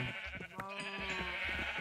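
Sheep in the Minecraft video game bleat a few times in quick succession, wavering nasal cries fairly close and clear over a faint background, with no talking.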